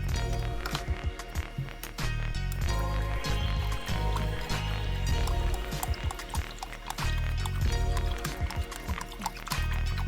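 Purple shampoo being poured and mixed into hot tap water from a sink, heard as continuous sloshing, gurgling and splashing with rhythmic stirring pulses, fairly close and loud throughout.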